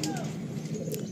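Young teddy pigeons coo softly in a small cage, low, rounded murmuring calls close by over a faint background hiss.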